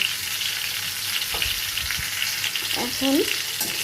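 Pointed gourd with turmeric and salt fries in a pan with a constant close sizzle. A spatula clicks and scrapes intermittently as it is stirred.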